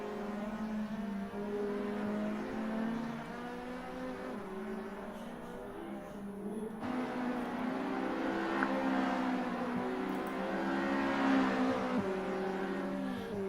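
Class D race cars at Zwartkops racetrack come through with a layered engine drone, several motors revving and shifting at moderate distance, growing slightly louder toward the end.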